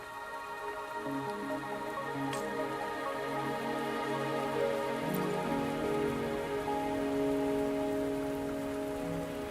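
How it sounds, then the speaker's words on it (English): Steady rain falls across the scene in the video game Wuthering Waves, a continuous hiss of drops on surfaces with soft musical tones running underneath, no voices. "Are you trapped here by the rain?"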